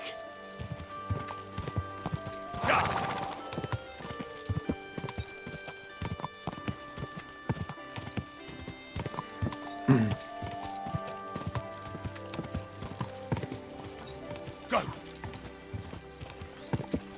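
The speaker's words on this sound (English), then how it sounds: "Easy, good horse." A horse clip-clops along in the video game Kingdom Come: Deliverance II, with steady, close hoofbeats throughout and a few loud neighs and whinnies breaking through.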